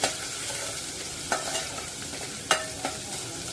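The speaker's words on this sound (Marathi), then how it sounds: "आलं लसूण गुलाबी रंगाला परतून घ्यायचं आहे" Ginger and garlic stir-fried in a pan for a pomfret curry with tamarind, giving a steady close sizzle broken by several sharp spatula scrapes and clicks at irregular intervals.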